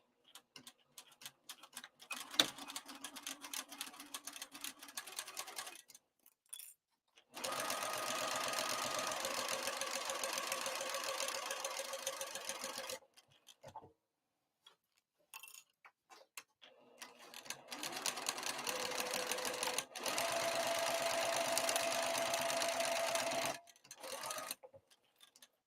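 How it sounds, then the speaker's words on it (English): A sewing machine stitches the exterior of a crossbody bag in three long runs, with short pauses where the stitch length is changed and back tacking is done, steady and close with no voices. "So I'm going to stitch down, change my stitch length, and I will be back tacking"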